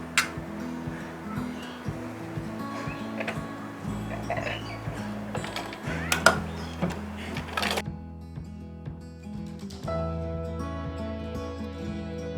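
Sewing machine stitching the sleeve seam of a kameez, a steady fast mechanical whirr of stitches running almost throughout, with brief pauses and a shift in tone partway through, close and clear.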